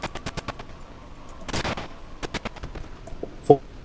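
Rapid bursts of Glock pistol fire in the horror video game Cry of Fear, a string of sharp cracks spread through the clip with one louder blast near the end, under a low game ambience.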